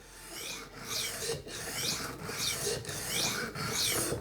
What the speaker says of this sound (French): On entend le disque diamanté qui fait son travail.